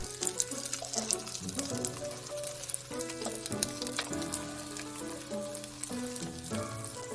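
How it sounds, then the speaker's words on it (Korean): Egg-battered Korean five-colour skewered pancakes (kkochi-jeon) fry in a pan, a soft continuous sizzle with scattered crackles and pops, fairly faint, under a faint tonal background. "아래쪽이 노릇하게 익으면 전을 뒤집어 주세요."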